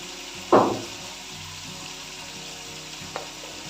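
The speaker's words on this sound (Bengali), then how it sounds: "মশলাটা ভালো করে নেড়ে চেড়ে এটা কষিয়ে নেব" Coriander and cumin powder frying into a spice masala for a fish-head muri ghonto, with a steady soft sizzle, one sharp scrape of stirring near the start and a faint clink later, no talk.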